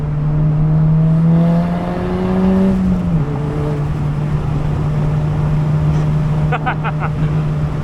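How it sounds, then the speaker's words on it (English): A car driven hard at full throttle in second gear, its engine note rising steadily then dipping briefly at about three seconds before holding strong, loud and close throughout; faint voices appear near the end. "I was banging it in the second gear, so it's full throttle, right?"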